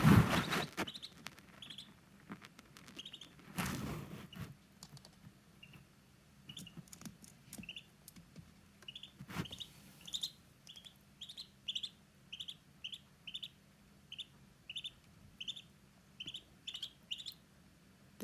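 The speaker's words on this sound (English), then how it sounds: "this is honestly one of the happiest little ducklings" A duckling peeps repeatedly in short, high, bright chirps, spaced in a steady series that grows more regular toward the end, close by against a quiet room with a few soft knocks and rustles.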